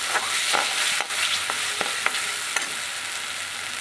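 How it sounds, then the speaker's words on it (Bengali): Spice paste hitting hot oil in a wok for a chicken kofta curry, giving a loud, steady, dense sizzle with occasional stirring scrapes and spatula clicks, close up and with no talking. "আর এই যে মশলাটা পেস্ট করেছি সেটা তেলের ওপরে দিয়ে দিলাম"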